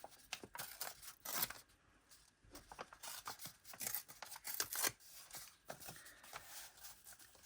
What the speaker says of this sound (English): I'm just going to tear along that straighter edge